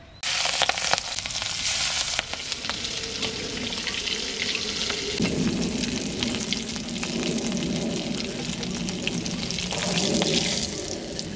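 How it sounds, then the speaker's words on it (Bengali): Prawns fried in hot oil, a steady broadband sizzle and crackle that runs loud and continuous throughout, with occasional stirring or shifting sounds and no talking. "এবার মাছগুলো তেলেতে ছেড়ে দেবো"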